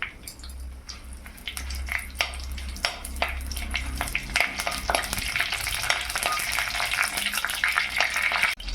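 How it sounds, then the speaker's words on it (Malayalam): Mustard seeds, curry leaves and dried red chillies crackle and sizzle in hot oil, a dense steady fry with sharp popping spatters throughout, close and loud, with no talk. "കടു, കറിവേപ്പില, വറ്റൽമുളകും ചേർത്ത് ഒന്ന് മൂപ്പിച്ചെടുക്കാം"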